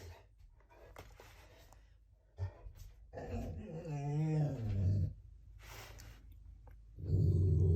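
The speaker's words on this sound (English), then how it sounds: "My watchdog in the background." In the background, a dog whimpers and whines in drawn-out, wavering tones, with soft low growly sounds and a louder rumble near the end, heard fairly close in a quiet room.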